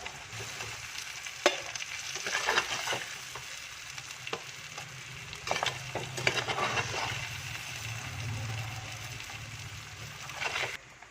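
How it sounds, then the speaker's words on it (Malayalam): Chicken shallow frying in oil for a Kerala-style curry, a steady sizzling hiss throughout with scattered crackles and a few louder pops and stirring clatters, close and fairly quiet, with no voices. "നമ്മുടെ ചിക്കൻ കുറച്ച് ഫ്രൈ ആയിട്ടുണ്ട് കേട്ടോ, ഷാലോ ഫ്രൈ ആയിട്ടുണ്ട്."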